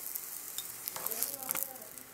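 Soft crackling sizzle of cooking oil in a frying pan while green enchiladas are being made, with scattered pops and spatters over a steady fry, fairly quiet and without talk.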